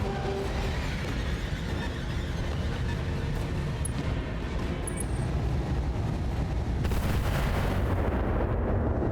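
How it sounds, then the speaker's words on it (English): Long-range weapons fire from an enemy mech in BattleTech rolls in as dense, continuous booming and rumbling barrages, with heavy impacts layered throughout and a brief sharper burst near the end. "His long-range fire is awful accurate"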